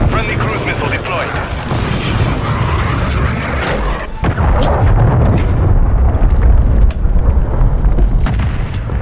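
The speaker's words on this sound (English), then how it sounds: "Friendly cruise missile deployed." A friendly cruise missile strike in Modern Warfare 3 multiplayer: loud, sustained rumbling blasts and booms fill the scene, with a sharp impact about midway. Game voice chatter sounds underneath.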